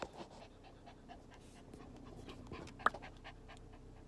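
A white Maltipoo puppy pants softly and rapidly up close in a quiet car, with one sharp click partway through.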